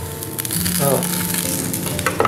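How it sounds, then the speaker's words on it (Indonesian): Semolina and red pepper frying in a pan for a vegetarian dish, a loud, steady close sizzle with light stirring and no talking. "Ini masih dimasak nih, ini masih lama nih ya"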